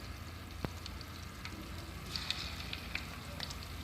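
Chicken pakora pieces fry in hot oil, a faint, steady sizzle with a few soft pops and crackles, quiet and close, with no one speaking.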